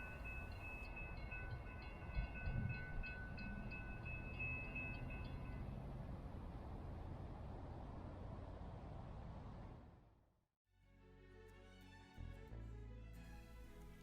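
A Brightline passenger train on a test run, limited to 90 mph, roars past continuously at close range, the steady loud rush of wheels and cars fading out suddenly near the end before a quieter rumble returns.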